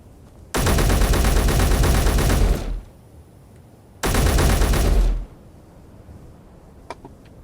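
Two long, loud bursts of rapid automatic gunfire in a survival video game, each lasting a couple of seconds and separated by a short quiet gap, with a faint click afterward.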